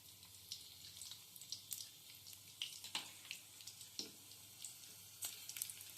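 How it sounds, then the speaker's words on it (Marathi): Crushed garlic frying in a little hot oil for tempering, a faint, continuous sizzle with scattered sharp spits and pops throughout; no talking. "थोडं तेल गरम झालं की त्याच्यामध्ये लसूण टाकून घ्यायचा"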